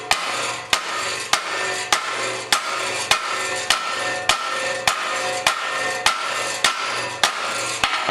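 A hammer repeatedly striking bent metal on a boat trailer frame held with vice grips, a dozen or so steady, evenly spaced sharp metallic blows, close and loud, with a ringing hum between strikes.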